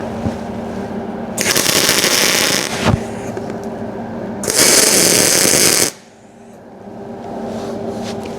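Tack welds on a DIY car rotisserie frame: two loud, harsh crackling bursts of arc welding, each lasting over a second, separated by a brief pause, over a low background hum.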